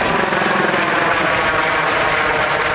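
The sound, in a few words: US Customs and Border Patrol helicopter flying overhead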